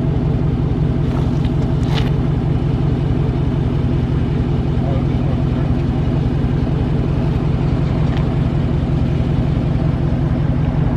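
A 2021 Scat car idles with a steady, deep engine rumble throughout during a line lock burnout attempt, the drone loud and constant without strong revving peaks.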